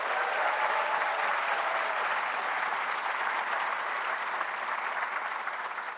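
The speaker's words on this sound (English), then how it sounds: "Let's give them a round of applause." A large audience at a white coat ceremony applauds, a dense, steady wash of clapping that holds evenly from start to finish and tapers slightly at the end, with no voices over it.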